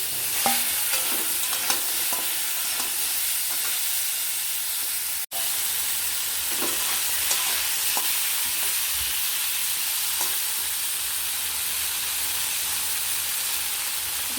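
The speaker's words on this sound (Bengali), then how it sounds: "5-6 মিনিট মতো নাড়াচাড়া করে যে সবজিটা ছিল ঝিঙে পটল সবজিটা দিয়ে দিলাম।" Ridge gourd and pointed gourd are stir-fried in a pan with a steady, fairly loud sizzling hiss throughout and occasional light stirring clicks.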